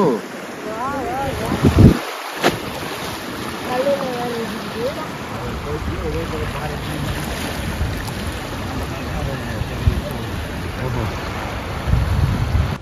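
Fast river water at Hogenakkal Falls rushes steadily around a boat in mid-ride, a constant loud wash with heavy wind buffeting the microphone and people talking over it.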